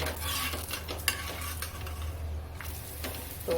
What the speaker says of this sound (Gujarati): આ રીતે આપણે તેલ નાખી અને સેડવી લઈએ સારી રીતે